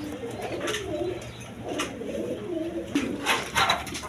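Single male pigeons, some of them racers, coo in low throaty bursts close by, with occasional sharper flutters and scuffs in the loft.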